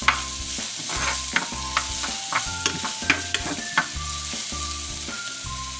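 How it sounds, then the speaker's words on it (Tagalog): Basa fish fillet frying in a pan, a steady close sizzle with scattered crackles and pops throughout, alone with no talk, under a faint rhythmic low background hum. "Now, ipiprito ko na itong basa fish fillet, pinakasahog ng ating lulutuin lentil stew"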